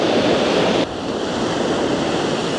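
Sea waves wash onto a clean beach in Spain in the morning, a steady broad roar of surf with some wind noise on the microphone and no voices.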